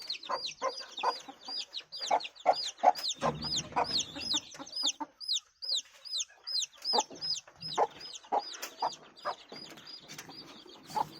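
A flock of chickens clucks continuously, dozens of quick high calls overlapping in a busy, fairly quiet chorus with no voices.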